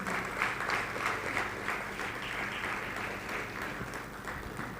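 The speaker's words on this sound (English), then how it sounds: "Please, more applause for him." Steady applause from a large audience at the TotalEnergies Startupper awards ceremony in Nigeria, sustained and even throughout with no talking over it.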